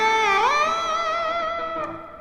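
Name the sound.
electric guitar lick with vibrato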